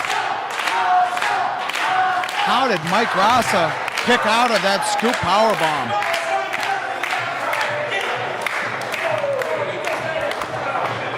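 A wrestling crowd chants and cheers for Mike Gracá, rhythmic rising-and-falling voices and claps in a busy arena, with commentators talking throughout over the noise.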